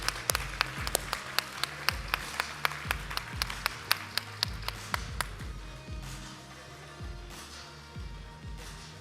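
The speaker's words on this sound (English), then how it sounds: "round of applause" Audience at a conference general session in Marco Island claps in distinct, sharp beats that fall into a rough rhythm, loud at first and then thinning and fading after several seconds.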